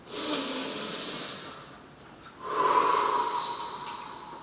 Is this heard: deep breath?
yes